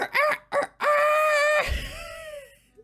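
A rooster crows in the morning in a town: two short clipped calls, then one long sustained note that trails off in a wavering falling tail. It is close and fairly loud, with no talking.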